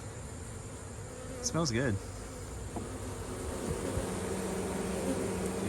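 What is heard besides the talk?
honeybees buzzing around a hive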